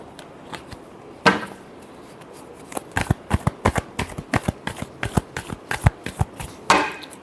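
Tarot cards being shuffled by hand during a reading, a burst of riffling near 1.3 s then a rapid run of crisp, close card snaps and flutters, ending in another riffle; no talking.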